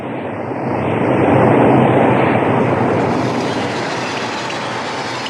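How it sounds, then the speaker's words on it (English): The Advance Cannonball, hauled by an ALCo C420 locomotive on the main line through Kew Gardens, roars past in a loud broad rumble that swells and then slowly fades, with no voices. "the Advance Cannonball roars through Kew Gardens on the main line. An ALCo C420 provides the power."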